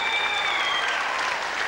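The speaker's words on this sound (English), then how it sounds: "Round of applause." Round of applause from a crowd at a boxing bout, continuous dense clapping at moderate level with a faint tonal whistle threading through it.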